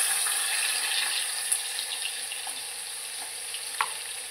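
Onion with curry leaves frying in a tempering for a Marathi brinjal curry, a steady hissing sizzle throughout, moderately loud, with a couple of brief clinks.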